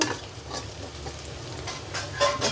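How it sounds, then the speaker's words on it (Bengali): Onions frying in a pan for turnip curry give off a steady close sizzle, broken by a few scraping stirs, with no one speaking. "পেঁয়াজটা একটু ভাজতে হবে ভালো করে"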